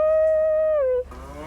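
A single long, loud moo from cattle on a prairie ranch, holding steady then sagging in pitch before breaking off, followed by quieter lowing and outdoor background.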